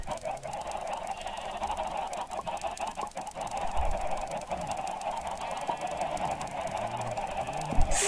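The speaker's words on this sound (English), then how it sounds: "Look at all of these chickens." Chickens clucking in the Minecraft video game, a flock of birdlike clucks and squawks sounding repeatedly over steady game background noise, moderately loud, with no talking.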